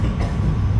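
A Chicago elevated train at Merchandise Mart station gives a continuous loud low rumble of cars and wheels on the track, close by and with no voices.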